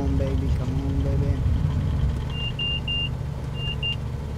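A Kit Fox light aircraft engine in a flight simulator drones steadily with a low rumbling hum, joined by faint repeated electronic beeps partway through.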